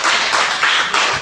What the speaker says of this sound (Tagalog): Kaya pumalakpak nga mga single dito.